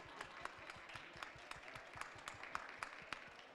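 Audience applause breaking out for an all-woman panel of experts at a COP27 session on land restoration, a steady patter of many hands clapping at moderate distance and fairly quiet throughout.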